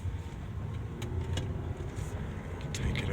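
A 2008 Volvo XC70 cruises along with its engine running, steady low road and engine rumble from inside the cabin with a few faint clicks.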